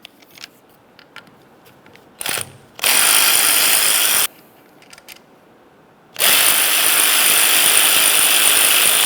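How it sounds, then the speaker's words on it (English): Bolts come off a 2001-2005 Ford Explorer steering column bracket under a T30 Torx bit on a ratchet, heard as two loud, close bursts of rapid clicking separated by a short quiet pause. "we're going to have to remove these two bolts and these two bolts. To do that, we'll use a T30 Torx bit."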